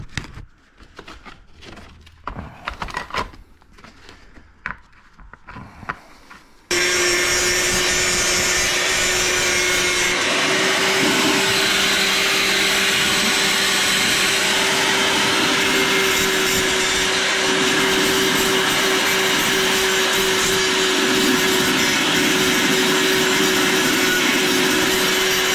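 Power tool fitted with a Mastercraft wheel cleaning a Honda Civic muffler: intermittent scraping first, then a loud, continuous grinding whine held steady for about twenty seconds.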